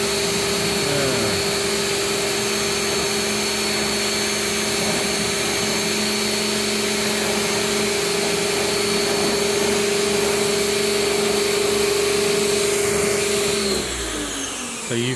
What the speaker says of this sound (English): So here we go with a little bit of rinsing.